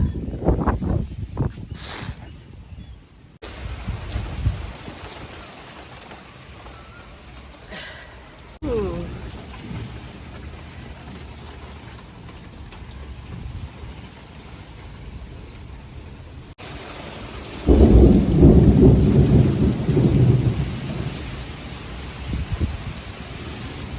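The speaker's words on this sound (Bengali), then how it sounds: "বৃষ্টি চলে এলো বৃষ্টি অনেক বৃষ্টি হচ্ছে ঝিমঝিমিয়ে" Heavy rain falls outdoors with gusty wind, a steady wash of drops that swells louder and denser toward the end, broken by brief gaps and sharp shifts in level; no clear thunder stands out.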